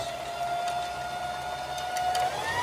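Singer Classic sewing machine winding a bobbin, a steady mechanical whir with a thin sustained tone running throughout at moderate level, with no voices.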